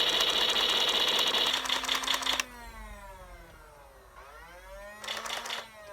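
A Nerf LMTD Aliens M41A Pulse Rifle toy's motor whirs loudly for a couple of seconds, then drops to a quieter winding whine that dips and rises before a short mechanical burst returns.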